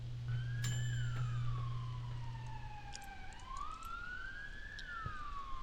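In the video game Schedule 1, police sirens wail in a sweeping rising-and-falling pattern, heard from a moderate distance over a low background hum, with a brief sharp sound early on.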